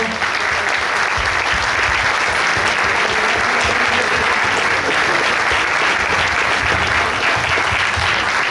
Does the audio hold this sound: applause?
yes